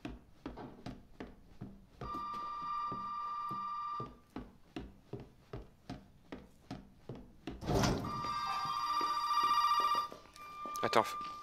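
A telephone rings in Resident Evil 7 in two bursts of ringing, each about two seconds long, separated by creaking wooden footsteps, with a further brief ring at the end and a voice talking faintly beneath.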